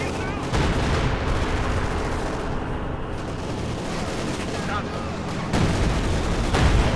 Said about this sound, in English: And artillery going down here on the main arterial road.